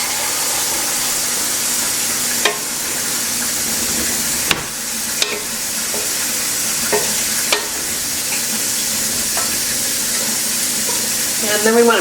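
Shrimp sizzling steadily in a pan while a honey sauce is stirred through, with a continuous frying hiss and a few sharp scrapes and clinks of the utensil against the pan.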